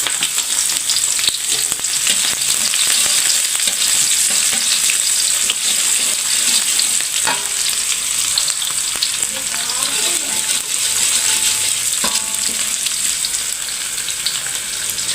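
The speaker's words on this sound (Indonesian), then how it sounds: "Kita numis pakcoy, bawang merah, bawang putih" Bok choy with shallots and garlic sautéing in a pan, a loud continuous sizzle and crackle close up, with occasional scraping stir strokes throughout.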